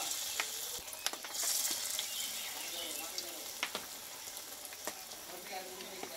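Puffed rice snack pieces fry in hot oil, giving a soft continuous sizzle punctuated by sharp crackles and pops, fairly quiet and close with no speech.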